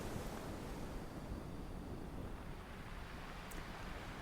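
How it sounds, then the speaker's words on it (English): A soft, steady wash of broadband noise like flowing water and rustling foliage, continuous and even, with no voices. "Listen to the faint sound of water, to the whisper of leaves"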